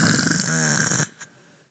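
A person imitates snoring with one long, loud, rattling inhaled snore lasting about a second, followed by a brief softer puff of breath, close and alone.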